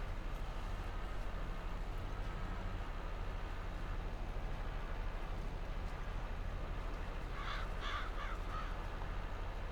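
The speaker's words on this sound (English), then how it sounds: "Get out of the way, crows." Crows cawing in the Farming Simulator 22 video game, a quick burst of several harsh caws partway through, heard over the steady low drone of a tractor engine working hilly fields.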